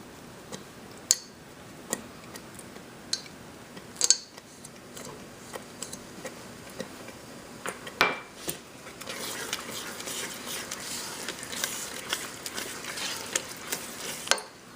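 Amrat Paak mixture stirred in a pan, soft scraping and sizzling with periodic sharp clicks and taps of a spoon against the pan, faint and close, with the frying growing a little denser toward the end.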